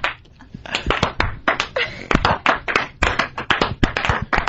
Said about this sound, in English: That, is that slow clap.